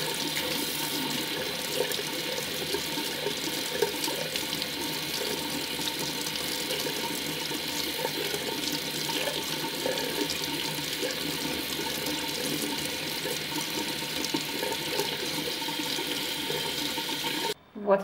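Tap water runs steadily into a sink while a plant is rubbed and rinsed under the stream, a continuous close splashing rush lasting throughout, with a faint voice now and then.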